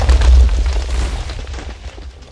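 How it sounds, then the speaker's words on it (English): TNT going off in a video game cannon: a single deep, booming explosion that hits at once and rumbles away over about two seconds. "when you ignite this TNT, it sort of jumps up and drops down"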